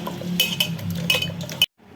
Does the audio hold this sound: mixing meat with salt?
yes